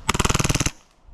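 An airsoft gun fires a rapid full-auto burst of about a dozen evenly spaced, loud close shots lasting under a second, then cuts off into quiet room tone.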